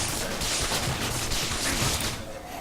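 A stasis cannon fires in the game Until None Remain, a dense, loud rush of blasts that blurs into a continuous roar before tapering off near the end.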